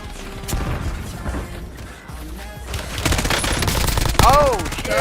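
Gunfire from a video game battle, with loud bursts, rapid repeated shots and crashes under overlapping voices and game sounds. A sharp burst lands near the end.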